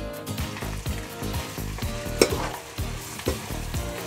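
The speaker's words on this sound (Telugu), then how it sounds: "ప్రాన్స్ బాగా ఫ్రై అయిపోయింది" Prawns frying in a pan with salt, turmeric, chilli powder and ginger-garlic paste, a loud close sizzle broken by rhythmic spatula scrapes and stirring knocks, with no talk.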